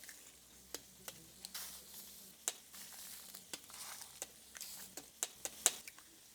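Eggs frying on a hot grill plate give a steady close sizzle with scattered sharp crackles and pops, some spitting louder than others, and no voices.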